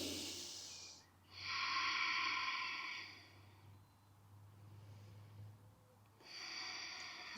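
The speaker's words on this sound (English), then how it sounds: "Maybe bringing that Ujjayi breath," Slow, audible Ujjayi yoga breaths taken outdoors, two long throaty hissing exhales with a gap between them and another breath starting at the end, close and fairly quiet against a low steady hum.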